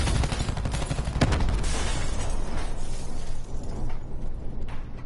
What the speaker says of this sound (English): They threw a nade down at you or something.